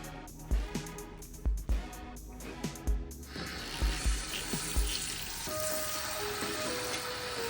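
Running tap water rinsing shampoo out of a wig at a sink, with a steady close splashing flow that follows a few seconds of thumps and handling knocks.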